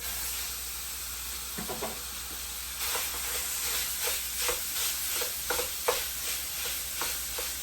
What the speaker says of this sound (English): We want to sear our ground beef, cook it down until it's nice and brown.